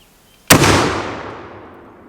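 A single loud shotgun blast firing a slug, sharp and close, followed by a long fading echo.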